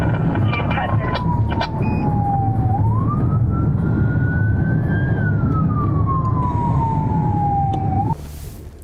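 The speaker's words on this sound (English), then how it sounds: "As the officer reaches the transit center, sirens blaring" A loud police car siren wails steadily, its pitch sliding up and down over heavy road rumble, ending with a brief burst of noise.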